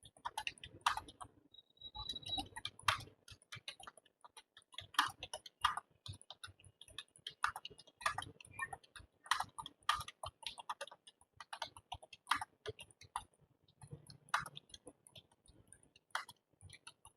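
Continuous rapid typing on a computer keyboard during a typing exam passage, with crisp, closely miked key clicks in an uneven rhythm and no talking.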